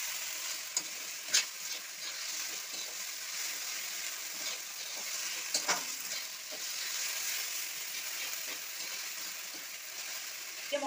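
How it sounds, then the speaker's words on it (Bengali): Spice paste for Bengali doi potol is stirred in a hot pan, giving a steady soft sizzle with scattered scraping spoon clicks, close and moderate in level, with no talking. "বাটা মশলাটাও ঢেলে আমি বেশ কিছুক্ষণ নাড়িয়ে নেব।"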